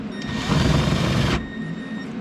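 A 1/2 inch drill bit cuts away plastic trim on a Honda CRX side skirt, a short whirring, grinding burst lasting about a second before the drill winds down to a quieter hum.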